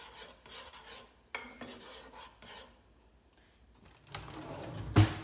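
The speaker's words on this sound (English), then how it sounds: "And then you want to stir that around a little bit." A spoon scrapes through a pan in a few slow strokes, fairly quiet, ending with a louder clatter of metal.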